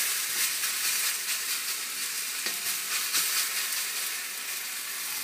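Ramen noodles and garlic frying in a hot pan, a steady loud sizzle and crackle with a few brief pops, no voices over it.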